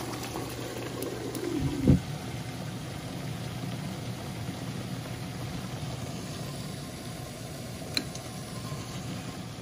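Water boils hard in a capped pot of shrimp, a steady low rumbling bubble throughout, with a brief clatter near the start and a faint tap later.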